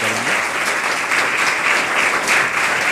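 A seated crowd at a yoga and anti-addiction community gathering applauds continuously, a loud, even roar of many hands clapping throughout, with no talking.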